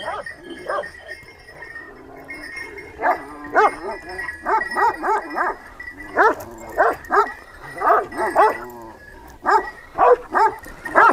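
A Kangal shepherd dog barks in repeated close, loud bursts, irregular at first and then in a steady run of barks, with faint village background noise between them.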